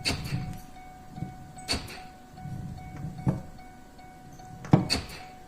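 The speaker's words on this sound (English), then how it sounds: "the power door locks activate" A 2007 Chevrolet Duramax LMM diesel truck door clunks open, followed by several sharp mechanical clacks of the power locks cycling at irregular intervals over a faint steady hum; the truck has a misfire.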